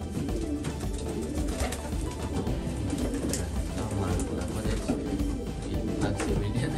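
Breeding pigeons coo in their nest boxes, newly fitted with nest bowls and nest mats, a dense, continuous murmur of low throaty calls that carries on steadily throughout.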